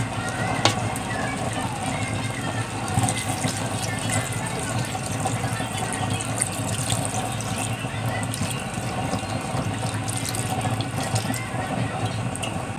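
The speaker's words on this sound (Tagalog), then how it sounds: "At lalagyan po natin to ng konting tubig" Water running and splashing steadily into a cooking pot of Bicol-style igado with taro, a continuous close trickle with faint background voices.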